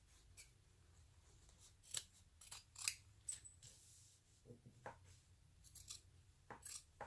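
Scissors trimming fabric for a crossbody bag, a scatter of soft, faint, close snips and rustles with quiet gaps between them.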